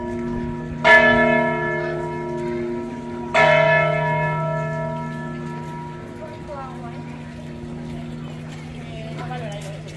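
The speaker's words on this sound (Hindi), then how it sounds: "अभी तो घंटियाँ बज रही हैं इसकी।" Church bells at the Mosque-Cathedral of Córdoba in Andalusia, Spain, strike twice, a few seconds apart, loud and resonant. Each stroke leaves a long, humming ring that fades slowly.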